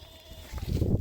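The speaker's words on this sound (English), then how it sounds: "Let's move these goats." Goats being moved in a front yard give a short, close bleat that rises out of quiet background hum near the end.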